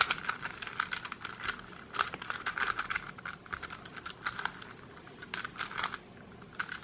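Close, quick plastic clicks and rattles as an edge of a Jing's Pyraminx twisty puzzle is turned, a dense run of small snapping taps with no voice over it.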